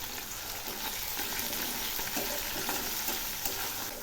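Chopped onions and tomato pieces fry in a pan for a rohu fish curry, making a dense, even sizzle that carries on without a break. It stays close and fairly loud, with faint stirring texture underneath.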